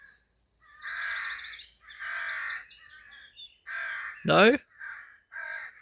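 A noisy group of crows near a rural railway line, cawing repeatedly in loud harsh bursts that come close together, with one brief spoken word among them.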